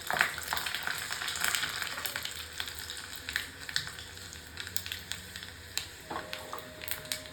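Cumin seeds and about four garlic cloves frying in hot oil for a tempering sizzle steadily at close range, with small pops and crackles throughout and no talking.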